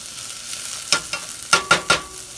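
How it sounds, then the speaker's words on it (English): Onions, jalapeno and garlic sauté in a pan with a soft, continuous sizzle, broken by several sharp scraping bursts of stirring toward the end. No one speaks. "the onions, jalapeno, and garlic have been sauteing for about 5 minutes"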